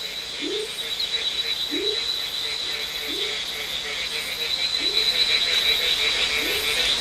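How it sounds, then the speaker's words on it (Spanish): Frogs call around rainforest ponds in Central America, a deep rising croak repeating roughly every second and a quarter over a constant high insect drone, close and clear. "Tres especies de ranas, desde una del tamaño de un frijol grande hasta otra del tamaño de un aguacate, se reúnen alrededor de los estanques para desovar."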